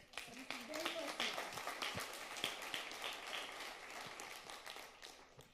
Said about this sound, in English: Can I get a round of applause?